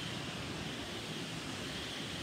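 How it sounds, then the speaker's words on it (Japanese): Constant, close rush of flowing water from a river stream near a waterfall along an upstream hiking trail, steady and broadband, with no voices. "この辺りも結構水の音聞こえますからね"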